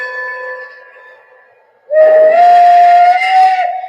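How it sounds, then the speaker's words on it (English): Banshee steam whistle on a model A5 locomotive, sounding as a loud, sustained wailing blast that rises slightly in pitch, following a fainter lingering tone and a short quiet gap. "Got that great Banshee whistle."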